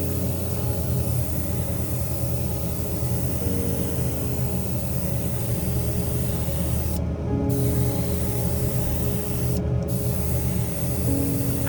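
Airbrush spraying paint layers onto a scale model Ford Mustang Hoonicorn car body, a steady close airy hiss running continuously with two brief pauses where the spray cuts off.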